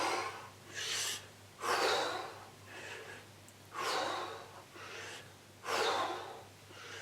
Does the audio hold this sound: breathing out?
yes